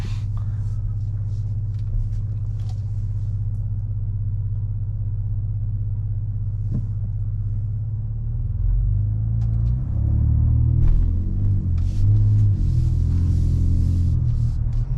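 A Ford Ranger Raptor pickup on a 0 to 60 run: a steady low engine rumble idles for several seconds, then swells into a louder, rising roar as the truck accelerates hard, with no talking.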